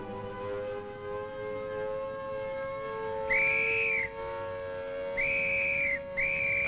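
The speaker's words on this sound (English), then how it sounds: "At the sound of the siren, vehicles are halted, and occupants, as well as pedestrians, are required to take shelter." A civil defense air raid siren sounding during a simulated attack drill, a steady tone interrupted by three rising, wailing blasts, fairly distant and alone.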